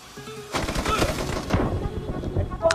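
Gunfire in the shooter game PUBG, a few sharp shots and scattered rapid bursts of moderate loudness over a busy game background.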